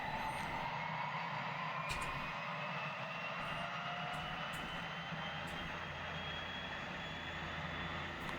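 A steady engine drone hums throughout with a high whine on top, continuous and fairly loud, a DHC-6 Twin Otter engine running in X-Plane 11.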